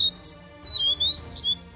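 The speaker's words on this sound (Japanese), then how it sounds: "その最中珍しい鳥の鳴き声が聞こえてきました。" A bird in a forest gives a few short, high chirps and whistles close by, one after another in quick bursts.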